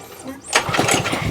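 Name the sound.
Massport Olympic cylinder mower engine starting and running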